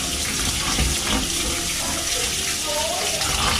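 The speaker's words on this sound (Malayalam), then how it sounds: "അപ്പം നമ്മൾ അരി കഴുകിയെടുത്തിട്ട് കേട്ടോ ബസ്മതി" Basmati rice being rinsed under a running tap, a steady close rush and splash of water that continues throughout with slight swells and no talk.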